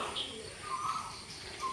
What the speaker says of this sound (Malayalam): കുയിൽ കൂവണ കേട്ടോ കണ്ടോ